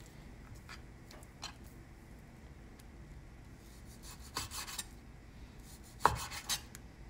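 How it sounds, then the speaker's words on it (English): A knife slices pork across the grain into thin strips on a cutting board, with quiet, irregular rubbing cuts and a few sharper taps on the board, close and soft, with no voices. "I'm going to cut across the grain"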